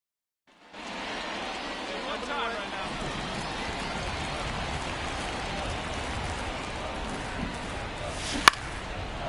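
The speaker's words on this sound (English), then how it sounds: "It feels like we might be headed towards a rain delay if the weather doesn't ease up, Chris." Steady rain in the baseball video game MLB The Show 24, a constant broadband hiss that keeps going without a break, with a brief sharp knock near the end.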